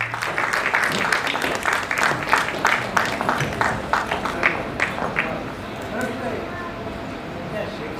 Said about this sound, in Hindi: तालियों की गड़गड़ाहट हो जाए दोस्तों।